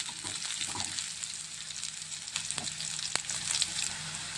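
Green chillies are stirred and fried in oil, giving a quiet, steady sizzle with soft scraping as they are mixed and a few crisp clicks from the spoon against the pan.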